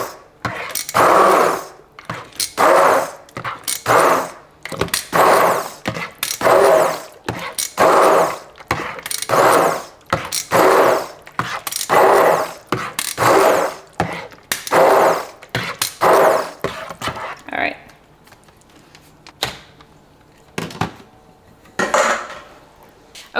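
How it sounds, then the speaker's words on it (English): Immersion blender whirring through banana chunks in a bowl, a dozen or so short loud pulses in a steady on-off rhythm, close up, followed by quieter clattering. "I usually take an immersion blender and just kind of quickly, without overdoing it, get these chunks"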